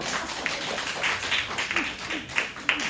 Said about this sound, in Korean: 허락받은 걸로 하려고 박수 한번 주십시오.